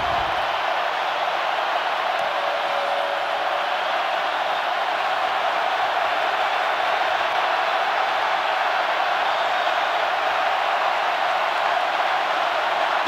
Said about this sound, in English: and listen to this crowd now.